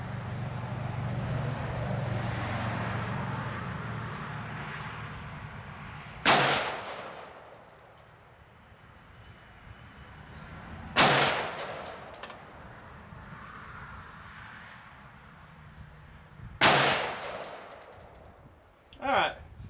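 An IWI Tavor rifle fires three loud, widely spaced single shots at an outdoor range, each a sharp crack with a ringing tail. A steady low rumble runs under the first part, and a fainter knock comes near the end.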